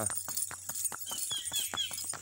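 Hooves of a horse clip-clop at a steady walking rhythm on an uphill road, a dozen or so crisp hoof strikes close by over a low engine-like hum.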